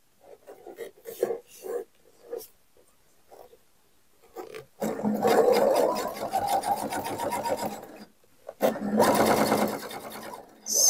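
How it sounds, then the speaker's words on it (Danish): A sewing machine stitches through the layers of a bag strap in two close bursts of rapid mechanical whirring, separated by a pause, with quiet speech and handling noises in between. "her syr jeg en stikning, så jeg får styr på alle lag her"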